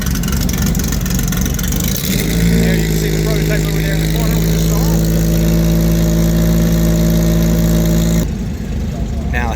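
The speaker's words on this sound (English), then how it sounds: "Now they got the engine running on this one too." A Porsche 911 engine idles loudly with a steady, throaty rumble at a Road Atlanta vintage racing paddock while someone talks over it; the sound cuts out near the end.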